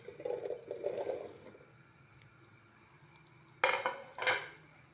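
Okra (bhindi) dropped into hot oil in a pan over a medium flame gives a couple of sharp clattering hits, low sizzle faintly underneath, with a duller rumble earlier.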